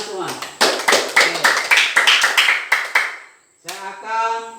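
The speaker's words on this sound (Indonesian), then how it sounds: "Oke, tepuk tangan semua." A class of students claps hands in a quick, even rhythm of sharp near claps mixed with voices, then the clapping stops and a voice carries on briefly.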